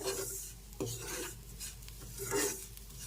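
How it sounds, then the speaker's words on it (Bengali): Powdered sugar being stirred into fried gujiya filling in a pan, soft rasping scrapes of a spoon against the pan in irregular strokes, close and fairly quiet. "এর মধ্যে দিয়ে দিচ্ছি গুঁড়ো করা চিনি চিনিটা দিয়ে খুব ভালো করে মিশিয়ে নিতে হবে"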